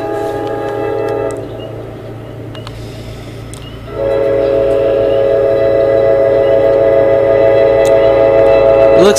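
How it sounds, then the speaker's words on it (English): Super express passenger train bound for Poughkeepsie passing close by at Fort Montgomery, a steady loud rumble of wheels and cars with horn tones that swell louder partway through and hold to the end. "Yep, the Super Express to Poughkeepsie"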